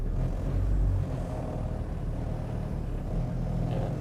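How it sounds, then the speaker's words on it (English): Steady low diesel rumble of a 1997 Toyota Land Cruiser Troopy with an inline-six diesel engine while driving, heard from inside as a continuous, moderately loud drone without talk. "with this inline-6 diesel"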